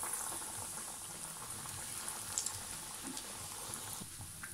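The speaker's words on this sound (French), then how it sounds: "Allez, l'huile est chaude. On y met nos galettes." Croquette patties frying in hot oil, a steady dense crackle and sizzle that fills the whole stretch, close up and fairly loud, with no voices.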